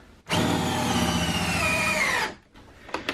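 A power driver sinks a 4.5 inch bolt through a socket set into a wall-mounted workbench, one loud continuous whirring burst of about two seconds that then stops, followed by faint clicks.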